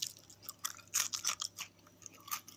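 Crunchy battered shredded beef with a crispy chilli coating, chewed close up in a quiet room: a string of sharp, irregular crunching bites, fairly faint, with no talking.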